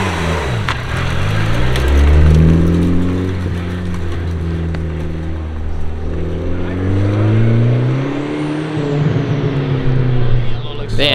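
A Nissan S15 with an aftermarket turbo exhaust revs and pulls away, engine note rising and falling in sweeping pitch changes, loud and close, with brief voices over it.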